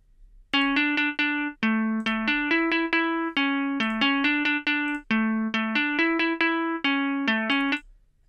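A sampled guitar plugin, Apollo Cinematic Guitars, plays a melody of quick repeated plucked notes with bright, ringing tones, steady and close, with brief pauses between phrases.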